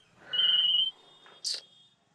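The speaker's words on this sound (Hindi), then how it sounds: "तेरा फोन बोल रहा है" A mobile phone rings in a comedy sketch: a faint, steady electronic tone held for about half a second, followed by a short brighter beep, in a quiet room.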